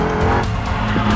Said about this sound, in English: Squealing understeer.